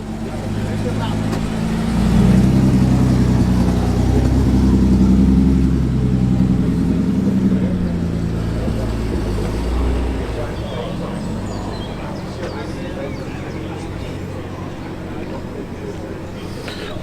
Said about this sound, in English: 300 SL is moving